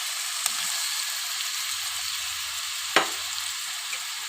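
Okra frying in a pan of cooked-down spice paste, a steady sizzle running throughout with a couple of sharp clinks from stirring.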